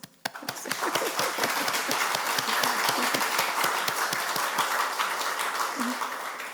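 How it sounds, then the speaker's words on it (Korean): A church congregation breaks into applause after a brief opening sound, building to a sustained bright clatter of many clapping hands, with a short voice near the end. "우리 박수로."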